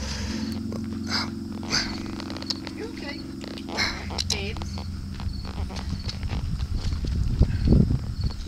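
A horse walks around a barn with a rider aboard, its hooves giving soft, steady footfalls under a low continuous rumble, while the rider talks over it.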